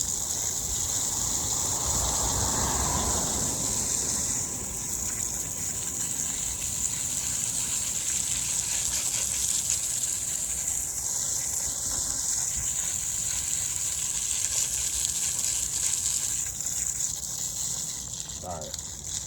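Water gushes steadily from a hose while a 1970 Schwinn bicycle is washed outdoors, a constant close rush with some talking over it.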